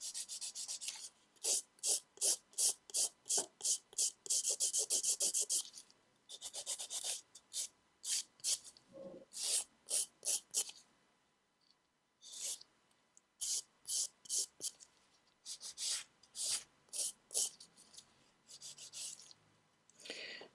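A gel nail being filed into a square shape. Short, regular rasping strokes come in quick rhythmic runs, close and crisp, with brief pauses between runs.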